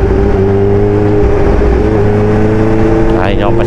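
A Kawasaki H2 motorcycle engine drones steadily while the bike is ridden, a loud close hum with a rising whine near the end, under a speaking voice.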